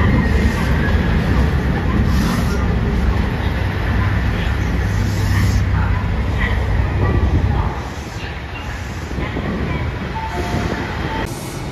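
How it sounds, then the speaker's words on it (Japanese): A JR Shikoku yellow Anpanman limited express, the Nanpu No. 3 bound for Kochi, rumbles past close by with a heavy, steady roar and clattering wheels that ease off into a lighter rolling hum, with a voice speaking in the background. "高知駅11時30分着黄色いアンパンマン列車特急南風3号"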